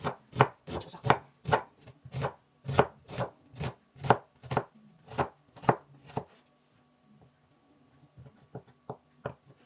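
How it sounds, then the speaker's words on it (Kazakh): Knife finely chopping onion on a board while preparing lula kebab in a home kitchen: a steady run of sharp close chops for about six seconds, a brief pause, then a few lighter scattered chops. "Пиязды ұсақ турап салып аламыз."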